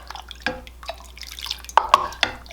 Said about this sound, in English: rinse off my paintbrush. Rinse out my cup.